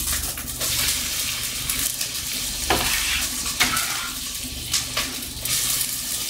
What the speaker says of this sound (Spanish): Vamos a derretir nuestra mantequilla y vamos a ir adentro con nuestra cebolla.